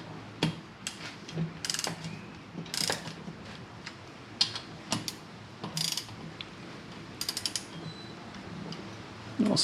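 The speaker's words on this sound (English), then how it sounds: "Torque wrench, again 25 foot-pounds." Torque wrench ratcheting while brake bolts are tightened during a dual front brake conversion on a Kawasaki Z1/H1 500 or H2 750 Mach IV. Sharp clicking bursts come in irregular clusters, close and fairly loud over a quiet background, with no talk.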